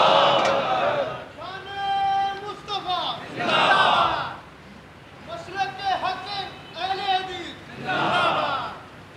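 A crowd chants slogans in loud, drawn-out, slowed-down bursts of massed voices. The chants swell and fade several times in a row.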